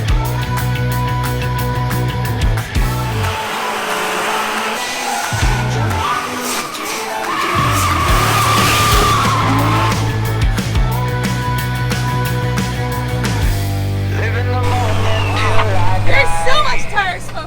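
Supercharged 900 hp car drifting on a track, engine roaring loud and near with harmonic whine, revs dropping and climbing through a gear change mid-drift, with tire noise and excited voices talking over it.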